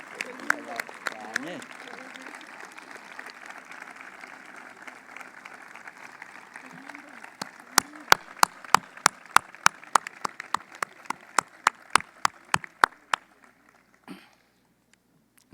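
Graduates at a commencement ceremony applauding their parents and families, starting as a soft, dense patter and then turning into louder, distinct individual claps near the end before stopping abruptly.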